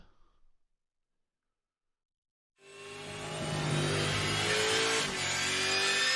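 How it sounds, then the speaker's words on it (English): The number 148 ZB Commodore Supercar engine on a racing video game hot lap, bursting in after a silent gap as a loud, sustained high-revving roar that holds steady, with a brief dip in pitch near the end. "welcome aboard the number 148 ZB Commodore Supercar for the Conklin Engineering Hot Lap"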